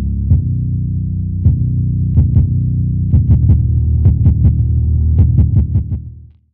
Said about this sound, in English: This is what adds more grit or distortion.